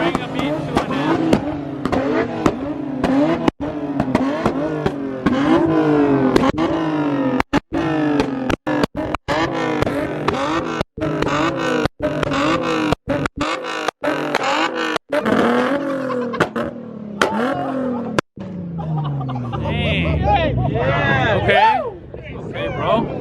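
Engines revving loudly and continuously at a Nissan VQ car meet, with rising and falling rev sweeps, sharp bursts and cut-offs throughout and a deeper rumble near the end, people talking over the noise.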